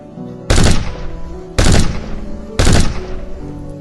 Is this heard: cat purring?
no